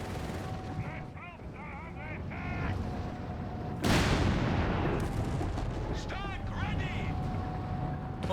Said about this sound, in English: There you go, whiz-bang bombardment.